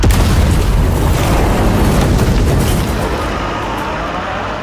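A detonated roadside charge blows up a vehicle in an action film, a loud, close, sustained explosion roar and debris rumble that slowly fades.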